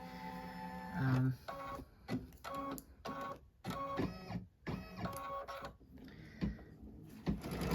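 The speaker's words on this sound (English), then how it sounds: "Let me get this mesh loaded and we will do the stitch out." An embroidery machine stitches out a mesh quilting design, giving a close, mechanical chatter of rapid stitching bursts with brief pauses and shifts in pitch as the hoop moves.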